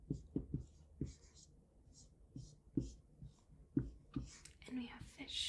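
A pen scratches a small number onto a page in short, close, crisp strokes, interleaved with soft whispering.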